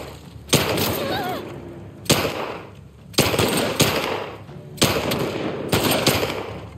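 Gunfire in The Last of Us Part II, No Return mode: several sharp, loud bursts of rapid shots spaced a second or two apart, each with a decaying echo, close and dominant.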